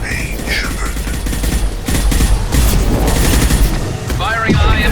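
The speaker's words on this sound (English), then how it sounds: "Firing a high impact shot." Gunfire and explosive booms from the Mass Effect 2 Legendary Edition video game, a dense loud barrage of shots and impacts with combat sound effects throughout, and a voice briefly heard near the end.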